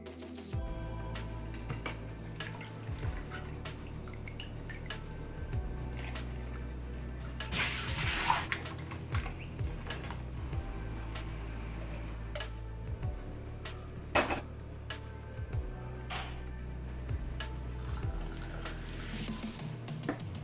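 Vegetables are rinsed and drained in water in a home kitchen, a steady wash of splashing and trickling with occasional louder sloshes and clinks, close and continuous.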